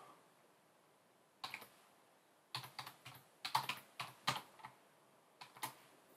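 A search command is typed on a computer keyboard, with short bursts of crisp close key clicks separated by brief pauses and no speech.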